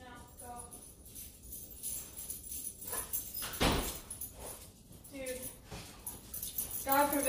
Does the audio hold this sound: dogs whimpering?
yes